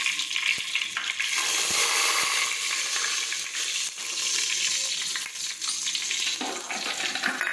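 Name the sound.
mustard seeds, cumin and asafoetida tempering in hot oil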